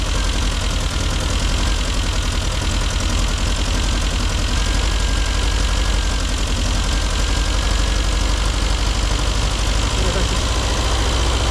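Classic Mini Cooper RSP engine idling unevenly while its throttle is adjusted, a close, loud, continuous mechanical chatter with fast, irregular pulsing and no pauses.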